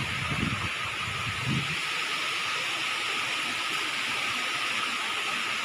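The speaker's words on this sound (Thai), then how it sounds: "น้ำตกใกล้ๆเลยชัด" Khlong Narai waterfall in Namtok Phlio National Park, Chanthaburi, heard up close as a steady, loud broadband roar of falling water, with a couple of brief low thumps early on.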